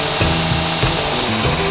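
A belt grinder roars steadily while grinding a twist Damascus Bowie knife blade, a loud, dense abrasive rush with rhythmic bumps as the steel is pressed against the belt.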